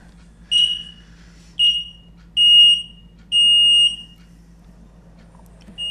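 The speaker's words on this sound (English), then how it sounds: "put high frequency pulse of electricity into a piezo transducer and make a loud buzzing noise" Four loud, piercing electronic buzzes from a piezo transducer driven by high-frequency electrical pulses, the first two short and the last two longer and steadier, with brief silences between them.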